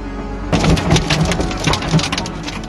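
Heavy rain from a powerful convective storm in Zhejiang, China, pouring steadily and close by with dense spattering, the downpour starting abruptly after a brief quiet moment and continuing without voices.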